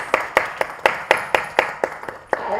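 People clap at a press conference for a cancer patients' aid association: about a dozen sharp, close claps come in a quick, fairly even rhythm.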